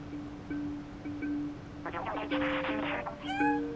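A cat meows in the game Stray, with a few short meows leading into a longer, louder cry near the end, set against a steady mechanical hum while someone talks.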